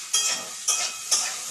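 Chicken frying in a pan gives a steady sizzle, with three sharp bursts of spitting roughly half a second apart as pieces are stirred or turned, loud and close.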